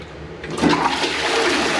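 A hotel bathroom toilet flushes at a Comfort Inn, a loud, close rush of water that surges after a short click and keeps swirling to the end.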